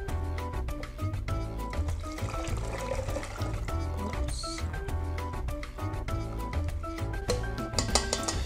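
Melon juice and water pour through a strainer into a container, a steady, continuous trickling and splashing with occasional clinks, up close and without talk.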